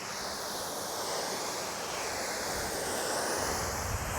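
A garden hose nozzle on its shower setting sprays water at low pressure over a Jaguar XK8 during washing, making a steady broad hiss that stays even and fairly close throughout, with no voices.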